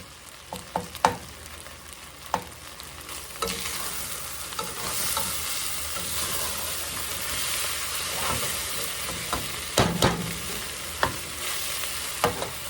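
Dirty rice meat browns and sizzles steadily in a pan, a continuous frying hiss broken by repeated scraping stirs of a spoon against the pan.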